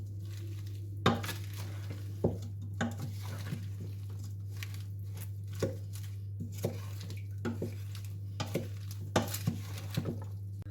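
Salad being tossed with salt in a bowl, heard as scattered close clinks and soft scrapes of utensils against the bowl at an irregular rhythm over a steady low hum, with no voices.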